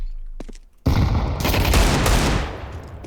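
Rapid burst of gunfire from Counter-Strike 2 on the El Dorado map, loud and dense after a brief quiet start, sustained for about two seconds with echoing tail, no talking.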